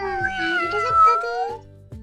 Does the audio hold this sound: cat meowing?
yes